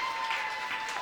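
A stand-up comedy audience claps for a comedian at a live show, a steady, dense patter of many hands filling the room for about a second without pause.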